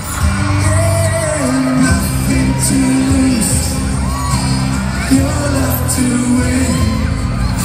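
Concert crowd at the MOA Arena roaring and shrieking as a trio's vocalist steps down from the stage, dense sustained cheering with high-pitched shouts and whoops, loud and close throughout.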